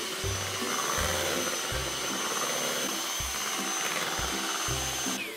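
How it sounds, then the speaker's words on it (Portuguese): An electric mixer whirs loudly and steadily, beating a creamy dessert mixture until smooth. Its motor hum pulses in a regular rhythm as the beaters turn, with no one talking over it. "E agora eu vou voltar a bater até homogeneizar tudo."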